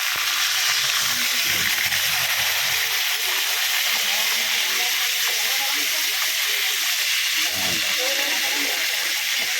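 Tuna slices frying in oil, giving a steady broad hiss and sizzle that fills the whole stretch with a few low bumps of handling under it.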